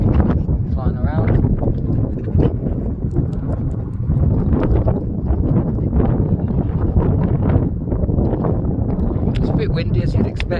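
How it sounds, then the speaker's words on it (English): Strong wind buffeting a microphone on an exposed hilltop ridge, loud continuous rumbling gusts throughout with no clear pauses. "It's a bit windy as you'd expect,"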